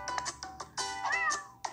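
Several cat meows from a fishing video game, a string of short mews followed by a longer drawn-out meow, close and clear over a faint steady game music bed.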